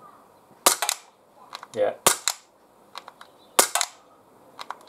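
Glock 17 CO2 air pistol firing freestanding, four sharp cracks spaced irregularly with a few fainter clicks between them, a brief voice mumbling once.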